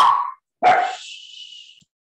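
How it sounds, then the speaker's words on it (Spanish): Two dog barks close by, a short one followed after a brief pause by a longer bark that trails off into a thin, high-pitched whine, with no talk over them. "Estos perros, ahora se le ocurre venir a la gente."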